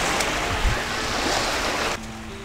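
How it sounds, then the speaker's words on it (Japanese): Ocean surf washes steadily at Hikotto Land Marine Beach in Shimonoseki, a constant broad rush of waves heard close with some wind on the microphone and no voices. "レイコちゃん海に入らんと、怒ってないで、海に入りましょう。"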